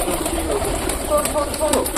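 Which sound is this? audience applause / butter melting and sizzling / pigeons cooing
pigeons cooing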